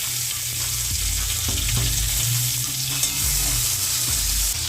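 Ginger and tomato fry steadily in hot oil for a Bengali home dish, a continuous close sizzle with a few scraping stirs of a spoon against the pan.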